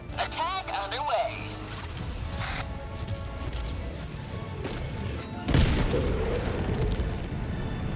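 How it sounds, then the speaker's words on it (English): An explosion in the video game Helldivers 2 bursts out as a sudden loud boom with a rumbling tail, following earlier whistling game effects and a steady background of battle noise. "Oh, nice explosion."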